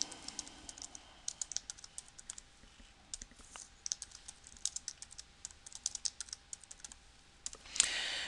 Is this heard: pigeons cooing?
no